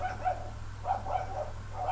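A young dog barks and yips in a handful of short, moderately loud bursts spaced irregularly, with no talking.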